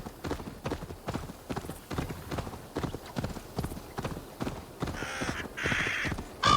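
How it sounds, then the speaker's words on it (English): Horse hooves clip-clopping at a fast gallop in Assassin's Creed Valhalla, a steady rapid beat of thuds running throughout with bird caws and game ambience layered over it. "And this horse is a fast one."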